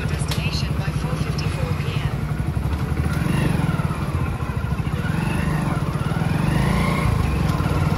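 Motorcycle engine running steadily and close by throughout as a ride begins for a parcel delivery, with a voice talking over the engine noise.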